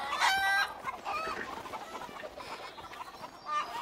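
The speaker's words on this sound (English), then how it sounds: "A flying chicken!" A chicken clucks a few times in the A Way Out video game, close and clear at the start, then softer clucks follow among woodland game ambience.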